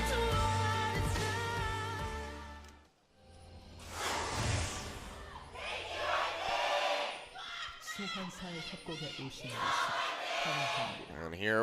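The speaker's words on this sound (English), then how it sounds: "SKT fans still very much cheering on for their squad despite the Game 1 loss." A crowd of SKT fans cheers during an LCK playoff esports match against KT Rolster in 2017, a loud sustained roar of voices that swells in waves through the whole stretch, with a sharp whoosh-like burst partway through.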